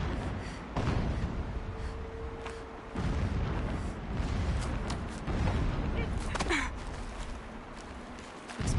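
Distant explosions in Horizon Zero Dawn, a series of dull booms and rumbles spread across the scene at moderate level, with voices and ambient game sound around them.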